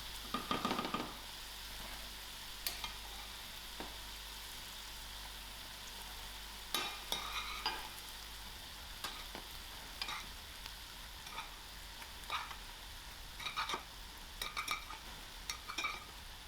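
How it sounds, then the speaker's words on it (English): Mealie rice being stirred into a pot of tinned fish curry, with soft sizzling under intermittent scraping and clinking spoon strokes against the pot, a low hum dropping away halfway through. "I'm going to start adding in my mealie rice to the curry"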